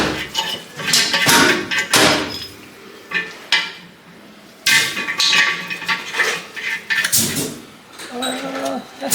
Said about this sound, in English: you're just chunking it up in the vise and hitting on it with the hammers